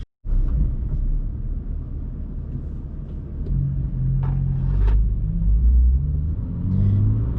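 BMW M2 car driving, its exhaust giving a steady low rumble that swells in the second half as the engine pulls harder, heard from inside the car with no talking.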